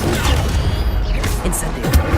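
A summoning spell cast in the video game Hogwarts Legacy, heard as a dense magical rush with thuds and crashing impacts, loud and close for a brief moment.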